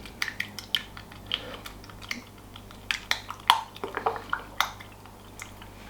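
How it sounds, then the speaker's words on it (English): Three eggs are mixed with a pastry brush in a bowl, giving close, irregular wet taps, clicks and squishy dabs in an uneven rhythm with no talking. "I'm just going to get my pastry brush, just mix these up."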